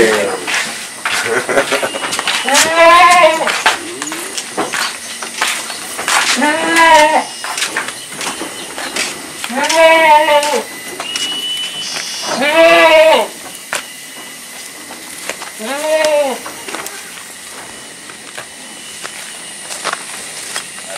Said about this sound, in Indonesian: Ayo Kang Tat, aku pengen delok wedhuse.